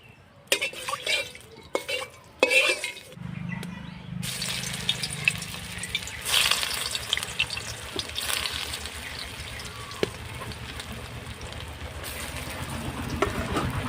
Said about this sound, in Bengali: এবার তেল দিয়ে পকোড়াগুলো ভেজে নেব।